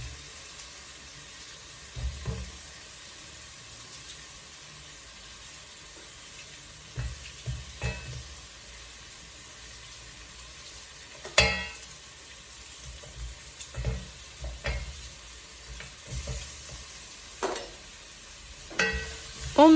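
Diced tomatoes and potato chunks for a beef pilaf are stirred in a pot, giving soft scraping and wet clatter in scattered bursts over a faint low sizzle, fairly quiet and without talking.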